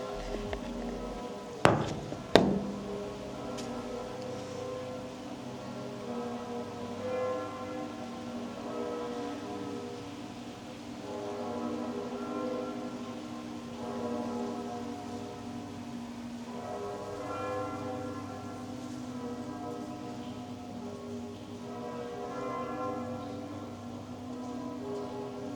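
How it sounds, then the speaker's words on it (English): Notre-Dame church bells in Paris ring in long, sustained tones with layered harmonics, preceded by two sharp knocks, over a steady wash of falling rain. "You can hear the bells of Notre"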